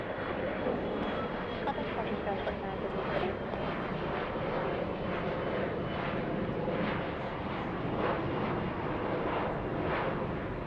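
Airplane engine roaring at an airport during takeoff, a steady loud broadband rumble throughout with no break.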